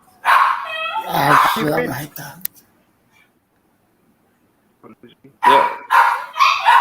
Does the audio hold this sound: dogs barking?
yes